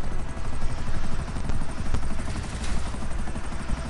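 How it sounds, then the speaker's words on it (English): A helicopter in the video game GTA 5 whirs and drones steadily, a loud continuous rotor and engine roar with faint pulses, heard alone throughout. "And Anthony is taking a chopper."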